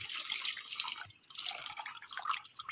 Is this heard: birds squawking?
no